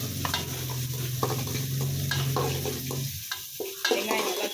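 Onions fry in oil in a pan alongside cinnamon and cardamom, sizzling steadily up close while a spoon scrapes and stirs in irregular strokes, with a low hum underneath that cuts out partway through.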